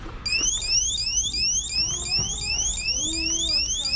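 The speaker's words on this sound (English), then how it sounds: "Oh, I just made the alarm go off." A store security alarm sounds loudly, a fast series of repeating electronic sweeping chirps over faint background noise.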